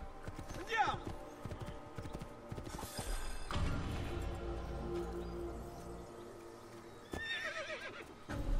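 Horse hooves clip-clop in Assassin's Creed II along with occasional whinnies and creaking, game-like sounds, while people talk over them.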